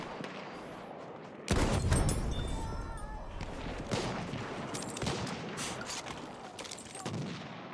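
Gunfire in Battlefield 1: silence breaks into a loud burst of shots and booming blasts, then rapid shots and explosions go on at mixed distances. A faint voice may sit low under the noise.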